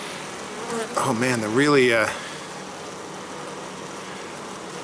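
Defensive honey bees swarm at an opened hive with a steady, close buzzing drone, and someone speaks briefly over it partway through.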